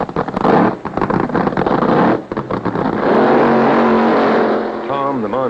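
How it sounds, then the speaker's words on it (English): Drag racing cars at a 1971 event roar down the track, a loud, sustained engine blare filling the whole span with rough bursts and a steady howl, while someone talks over it near the end. "the cars are ready for their first run."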